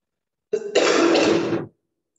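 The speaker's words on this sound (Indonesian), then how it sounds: "Sorry batuk." A single harsh cough from an adult during an Indonesian-language talk about scholarships, loud and close, about a second long with a short rough onset, heard alone with no speech over it.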